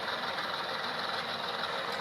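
A model diesel locomotive's engine sound, an ES44AC or C44-9W, playing from a small onboard speaker, a steady low idling rumble with a faint rhythmic knock, close and even.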